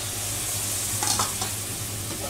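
A spice paste sautés in a pan with a little water, giving a steady close sizzle with a few stirring scrapes and clicks.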